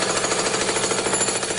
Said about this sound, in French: Marteau-piqueur,